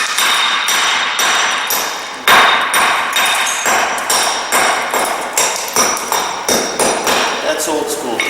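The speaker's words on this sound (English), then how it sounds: "Use the center hammer." A center hammer knocks the ears off a concrete block in a string of sharp, ringing metallic strikes, some a quick double tap, close and loud with no talk.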